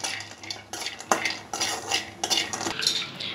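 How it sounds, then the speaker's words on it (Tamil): Cashews and almonds being lightly roasted in a pan for kaju katli, with repeated clattering scrapes and taps of a spoon against the metal pan over a faint sizzle, close and without voices. "அடுத்தது முந்திரி பாதம் லைட்டாக வறுத்து எடுத்துக்கலாம்"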